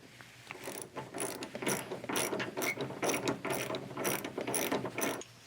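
Quick bursts of ratchet clicking as bolts on a Kentrol hood latch are driven in, repeated in short rhythmic runs across the whole stretch, close and moderately loud, with no talking.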